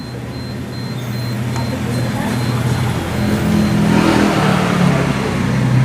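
A fuel-injected Honda Beat motorcycle engine revs in a workshop while sputtering under throttle, a loud continuous uneven drone that swells and rises toward the end, with no speech.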